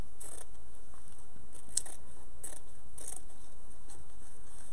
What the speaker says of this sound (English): I'm going to take my scissor, I'm just going to cut this about 9 or 10 inches up